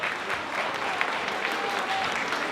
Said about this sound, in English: Let us welcome all the teachers with a big round of applause.